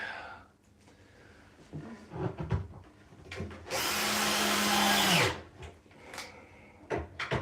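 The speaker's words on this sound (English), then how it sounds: "Alright, let's get the screws in here." A power driver whirs for a sustained burst around a mid-point while screws go in during bed assembly, surrounded by scattered knocks, clatter and handling noises, fairly close.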